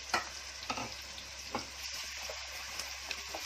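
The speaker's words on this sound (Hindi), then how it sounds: "अब इसको अच्छे से गुलाबी सुनहरी सी रंगत आने तक भूनूंगी" Steady sizzling of onions frying in a pan for Konkani-style mutton pulav, with occasional stirring scrapes and small pops, close up and continuous, no voices.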